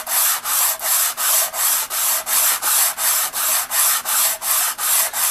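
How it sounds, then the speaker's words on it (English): A manual surface grinder works across an outboard motor manifold in steady, rhythmic back-and-forth strokes, about three each second, each a loud rasping hiss, close up with no voices. "this is a surface grinder, just a manual surface grinder"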